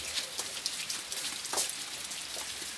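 Heavy rain pours steadily onto a surface, a dense, continuous hiss of drops close by with no voices.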